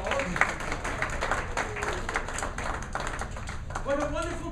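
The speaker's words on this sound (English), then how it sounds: "Give them one more round of applause." A theatre audience at a children's St Nicholas performance gives a steady round of applause, dense overlapping claps running for the full stretch, with voices mixed in over the clapping.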